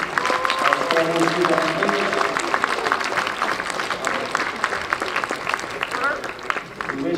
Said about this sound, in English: How about one big round of applause again for this group?